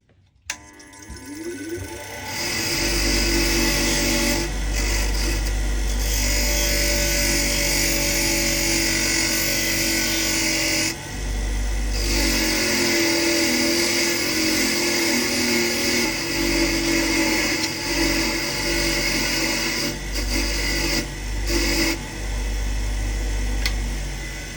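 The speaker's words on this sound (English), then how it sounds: "This rod's corroded, so I'll just give that a whiz with the wire wheel." A bench wire wheel whirs loud and continuous as a corroded rod is pressed against it in a shed, with a harsh steady grinding hiss that briefly dips and surges as the work is moved.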